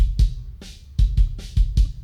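Soloed kick drum track from a miked rock drum kit with the noise gate off: deep, punchy thumps fall in an uneven groove, and softer snare bleed rings between the hits.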